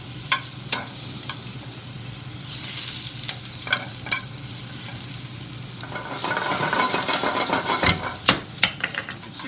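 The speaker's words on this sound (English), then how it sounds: "I'm going to start adding my mise en place, which is the acorn squash. And I just kind of want to brown those for a second." Thinly sliced acorn squash sizzles and browns in a pan, making a continuous frying hiss. A few sharp clicks and scrapes of stirring cut through it, growing busier toward the end, and no one speaks.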